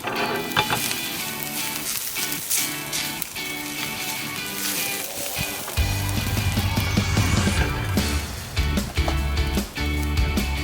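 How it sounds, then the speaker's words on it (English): Ratatouille sizzles in a cast iron pan in a wood-fired oven, a continuous crackling fry with scraping stir strokes and clanks of a utensil against the iron, close and loud. "One last stir."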